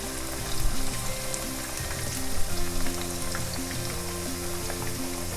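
Potatoes fry in a pan for Greek moussaka with a steady, dense crackling sizzle. The sizzle swells briefly twice, and no one speaks.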